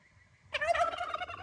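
One short, warbling turkey gobble bursts out close by after a moment of near quiet.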